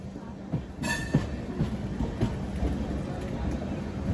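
A Satavahana Superfast Intercity Express with upgraded LHB coaches rolls onto the main line, a steady rumble with wheel clicks and a brief high squeal, heard from inside the train.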